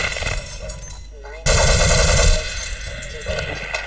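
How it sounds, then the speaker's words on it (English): Rapid automatic gunfire aimed at head crabs in the 1998 video game Half-Life, loud and close, with a short lull and then a dense, heavier burst of shots that gradually eases. "immediately fire at those head crabs if you want to kill them quickly"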